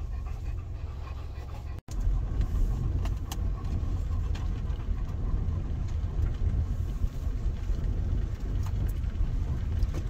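Car cruising along a road in spring with dogs riding inside, a steady low engine and road rumble running throughout, with a brief dropout near the start and the dogs' panting mixed in close by.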